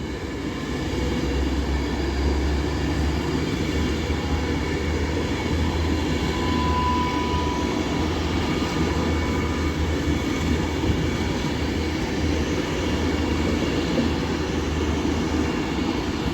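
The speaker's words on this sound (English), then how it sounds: "And also departing is 805008 with the Avanti West Coast service to Crewe." Avanti West Coast unit 805008 pulls out of Stafford station on the West Coast Main Line on the Crewe service, its steady engine drone and rolling rumble sustained and fairly loud throughout, with no voices over it.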